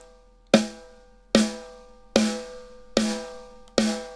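Raw close-mic snare drum sample from ML Drums with the compressor turned down, five sharp, evenly spaced hits, each decaying quickly with a ringing body tone.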